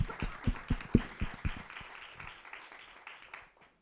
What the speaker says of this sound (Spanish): Un fuerte aplauso para Sonia.